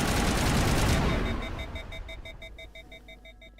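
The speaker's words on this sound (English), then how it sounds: "just keep shooting the conduits" Rapid gunfire from shooting conduits in the video game Mass Effect, a dense loud burst that cuts off after about a second, leaving a repeating electronic beeping tone pulsing steadily behind it.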